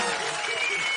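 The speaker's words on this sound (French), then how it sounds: "On peut les applaudir très très fort" A short burst of TV studio audience applause at a French comedy improv show, dense clapping from a crowd with voices mixed in.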